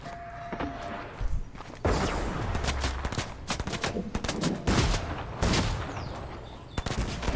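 Rapid gunfire in a shooter video game, with bursts of automatic fire and single shots crackling in quick succession at close range, with no talk over it.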